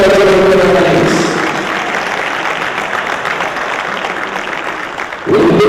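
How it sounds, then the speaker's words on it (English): A crowd at an agri-business investment forum in Jamaica applauds athletes, broad clapping that sustains at a fairly loud level and fades slightly toward the end, with a voice briefly heard at the start. "do a special round of applause to all our athletes"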